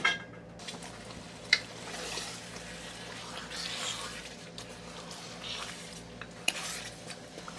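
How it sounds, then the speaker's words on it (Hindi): Chicken fried with spices, onion and green chilies in a pan for a Punjabi chicken curry, with a few sharp utensil clinks against the pan over a low, steady kitchen sizzle and stirring. "मसाले के साथ चिकन को अच्छी तरह से भूनेंगे।"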